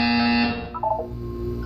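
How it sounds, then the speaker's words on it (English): A loud, harsh electronic buzzer from the Portal 2 video game blares steadily for about half a second, then a lower tone and short warbling notes follow. "You will hear a buzzer."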